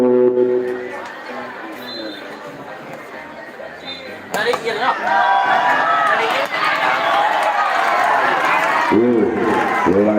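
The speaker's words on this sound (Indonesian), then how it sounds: "Lagi-lagi sorak-sorai" Crowd cheering and shouting at an amateur youth volleyball tournament match in Aceh, a dense roar that swells louder midway and stays sustained, with voices and chatter mixed throughout.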